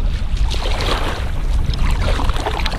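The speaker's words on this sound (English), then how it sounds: "So I'm paddling west right now on the southern end of the lake." A canoe is paddled across choppy Waldo Lake in Oregon in gusty wind from the north, heard as continuous close rushing wind and water sloshing against the hull, loud and unbroken with no talking.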